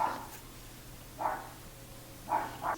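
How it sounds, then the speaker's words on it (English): A dog barks in three short bursts with gaps between them, moderately close in a quiet indoor room during a makeup session, with no talking over it. "Of course, the dog wants to bark."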